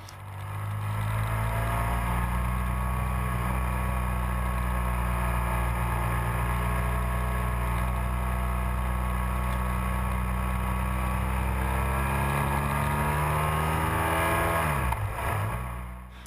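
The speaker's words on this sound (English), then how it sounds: "this bike would rather be in a lower gear than a higher gear, and sometimes she's a little fussy" A motorcycle engine drones steadily and loudly while riding a winding mountain road between Beatty, Nevada and Bishop, California, its pitch holding roughly level before dipping near the end.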